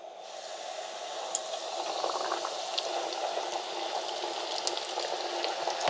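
Whole bluegill panfish, smothered in mustard, frying in a deep fryer, a steady close bubbling hiss with small pops scattered throughout and no talk.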